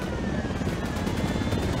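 Helicopter in the video game Ghost Recon Wildlands, a steady, muffled rotor roar with faint rhythmic pulsing throughout a brief stretch.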